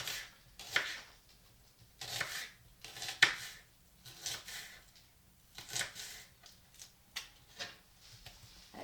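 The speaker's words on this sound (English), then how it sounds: "I'm going to start with half a red onion and slice it down really finely." A knife slices half a red onion finely on a board, making a series of crisp, close cuts in an uneven rhythm of about a dozen strokes with quiet gaps between them.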